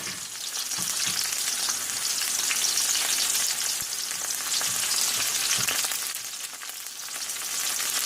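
Onions sizzle and fry steadily in a hot pan for a Filipino eggplant adobo dish, a dense continuous crackle with occasional stirring scrapes, loud and close with no talking.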